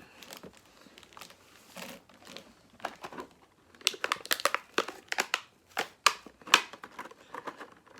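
Plastic wrapping on a Kigurumi mask package crinkles and crumples in irregular bursts as it is handled up close, the crackling growing louder and sharper toward the end.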